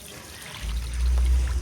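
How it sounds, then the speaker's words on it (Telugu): A glass of water poured into chicken in a pan for a spicy chicken ulli kaaram, giving a steady, close liquid pour with a low gurgle that builds after a brief quiet start. "మీకు చూడండి 1 గ్లాసు వాటర్ పోసేసాను."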